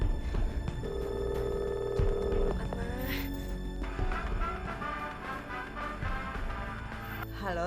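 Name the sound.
telephone ringing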